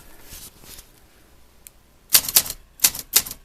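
An Olympia typewriter made around 1970 sits quiet at first with a single faint tap, then sharp, loud keystrokes strike close by in quick, uneven bursts, clacking one after another.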